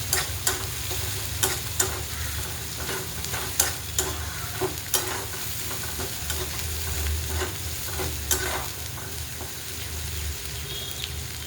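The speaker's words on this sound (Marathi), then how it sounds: "हे आपण वाटण तयार केलेलं ते टाकून घेऊया तेलामध्ये." Ground black masala paste frying in oil for a pavta bean curry, a continuous close sizzle punctuated by repeated sharp scraping and stirring strokes throughout.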